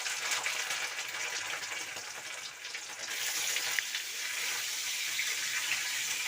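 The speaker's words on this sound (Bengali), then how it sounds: "এরপরে আমি পনিরটাকে ভেজে নেব।" Paneer sizzles in hot white oil in a wok, a close, steady bright hiss that swells slightly partway through and continues without talk.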